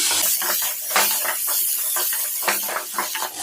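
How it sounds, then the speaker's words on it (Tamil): A handful of small shallots sauté with athalakkai in a pan, producing a loud, close, continuous sizzling hiss with rhythmic scraping surges as the mixture is stirred. "இந்த நேரத்தில் சின்ன வெங்காயம் ஒரு கைப்பிடி அளவுக்கு நான் சேர்த்துக்கிறேன் இப்போ சேர்த்து காய் கூட நல்லா வதக்கிக்கலாம்"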